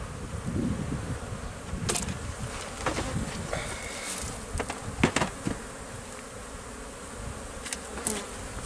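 Honey bees buzz continuously around three beehives at a small farm apiary, a dense, steady hum from many insects close by, with occasional individual bees zipping past the microphone.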